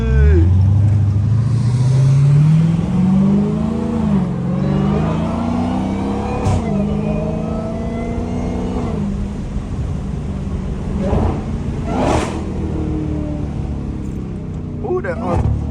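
Dodge SRT Hellcat engine revving hard and dropping through a downshift, with a rising pitch sweep, then steady loud engine drone under occasional talk, echoing as it passes through an underpass.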